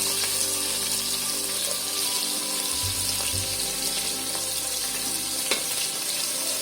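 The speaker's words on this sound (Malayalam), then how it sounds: "സവാള ഇട്ട് കൊടുക്കാം" A constant hiss and crackle of onions frying in a pan, steady and close, with occasional small clinks.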